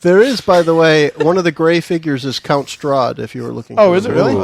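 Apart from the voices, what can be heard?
No distinct noise like a dog, phone or traffic.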